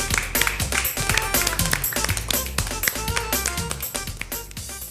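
A group of children and hosts on a studio set clap in a quick, crisp, fairly close run of hand claps that stays steady, then slowly thins toward the end.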